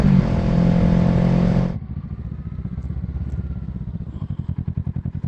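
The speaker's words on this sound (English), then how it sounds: "No brakes, all engine braking and clutch control for that turn." A motorcycle engine roars loudly at first, then drops to a low, pulsing, lugging beat as it engine-brakes through a turn with the clutch controlling speed and no brakes applied.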